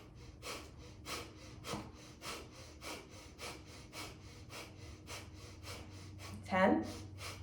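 Rhythmic deep breathing fills a guided breathwork exercise, a steady train of about a dozen close, airy inhales and exhales in quick succession, ending with a louder voiced sigh.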